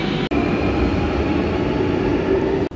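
A Lucknow metro train leaves Hazratganj station bound for Charbagh, giving a loud, steady low rumble with a faint sustained hum, framed by two brief dips in sound.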